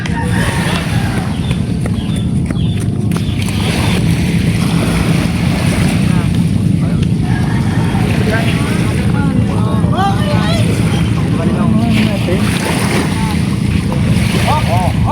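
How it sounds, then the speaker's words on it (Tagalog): An engine hums steadily from an approaching fishing boat returning with its catch, with wind buffeting the microphone and waves washing nearby while people talk. "Ayan po, at may darating na bangka."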